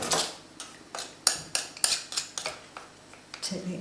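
A knife trimming excess pastry from the rim of a pie dish for a peach pie, a series of sharp clicking scrapes of metal against the dish edge in an uneven rhythm, close and alone.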